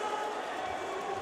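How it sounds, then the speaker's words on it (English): A large esports crowd roars steadily at the Six Invitational 2024 finals, a continuous wash of cheering with no breaks. "And the crowd goes wild."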